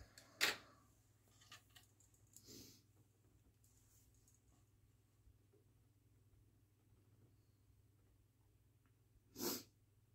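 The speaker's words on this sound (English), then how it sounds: "I'm sorry about my sniffles" A person with blocked sinuses sniffles while working on a polymer clay mosaic; two sharp, faint sniffs stand apart, one near the start and one near the end, over a quiet low hum.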